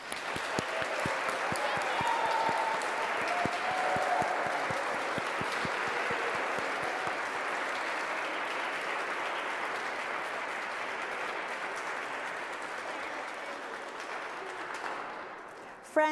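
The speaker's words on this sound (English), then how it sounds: "Can we get a joyful round of applause?" A congregation at a multi-generational Sunday winter solstice service applauds joyfully, steady dense clapping filling the room for about fifteen seconds before tapering off at the end.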